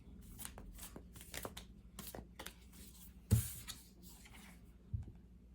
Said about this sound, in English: I was just trying to pull some cards.